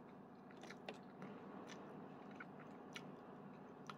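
Someone eats pansit canton gisado noodles up close, with soft, quiet chewing and scattered small wet clicks and crunches over a low steady hum.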